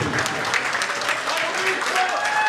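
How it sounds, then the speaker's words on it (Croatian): Continuous clapping from a crowd, steady and fairly loud, with voices talking and calling over it. "jednim velikim aplauz za naše kuma i kumu"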